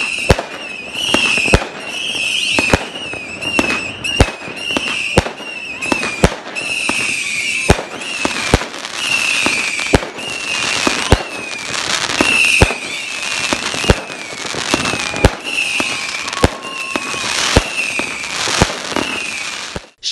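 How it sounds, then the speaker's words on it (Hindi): New Year fireworks exploding continuously, sharp bangs and crackling bursts in rapid irregular succession, loud and close, with whistling rockets rising between the blasts. "लोग अपने प्यारों के साथ घंटा भर आतिशबाजी का शानदार मुजाहरा देखते"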